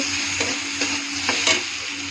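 Spatula scraping and stirring fried onions with turmeric and salt in a hot pan, several rhythmic strokes over a steady sizzle, close and clear with no voices.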